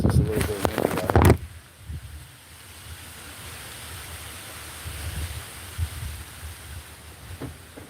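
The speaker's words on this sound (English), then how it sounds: "It's just a little bit windy out here." Gusty wind rumbles steadily across the microphone, broadband and low, after a brief loud burst of handling noise at the start.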